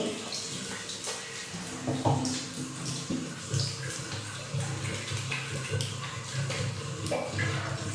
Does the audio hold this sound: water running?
yes